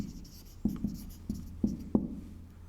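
A pen scratches across paper as notes are written by hand during a lecture on the Indian constitution, giving five or six short, close strokes at an uneven pace over a faint room hum.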